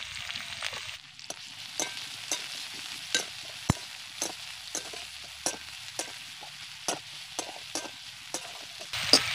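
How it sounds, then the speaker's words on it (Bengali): Chopped onions hit a pan with only a little oil and fry with a steady high hiss, marked by regular clicking scrapes of a spatula roughly every half second, near and fairly quiet. "এবার দিয়ে দিচ্ছি কেটে রাখা পেঁয়াজ।"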